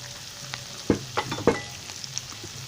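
Tomato and garlic are stirred in a pot while preparing dilombolombo, with a faint sizzle beneath a few clear scraping and clinking strokes bunched near the middle of the brief, quiet stretch.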